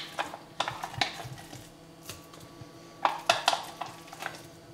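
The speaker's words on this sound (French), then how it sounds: "On viendra mélanger le tout." Fish croquette mixture is stirred in a bowl, giving scattered clinks and scrapes of utensil against the bowl in uneven bursts, close and fairly quiet.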